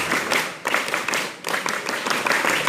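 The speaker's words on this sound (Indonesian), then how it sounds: "Itu tepuk pramuka." A group performs the Indonesian scout clap (tepuk pramuka) during a Ramadan religious lecture: a fairly loud, steady run of hand claps in short rhythmic bursts, with brief pauses between phrases.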